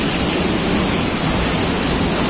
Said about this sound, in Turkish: burası Samandere Şelalesi